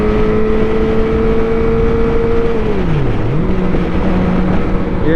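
Motorcycle fitted with an M4 MotoGP shorty exhaust, no catalytic converter, cruising on a highway: a steady, loud engine drone throughout, with the pitch easing down mid-pass and then settling again, no talk.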